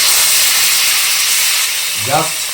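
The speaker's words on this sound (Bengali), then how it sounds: "মাছটাকে একটু কড়া করে ভেজে নিই" Fish fries in hot oil for a crisp finish, with a loud, steady hiss and sizzle throughout and a brief voice near the end.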